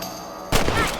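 A burst of gunfire in a western-style video game as a rabbit is shot, abrupt and loud after a quieter ambient start, with no talking.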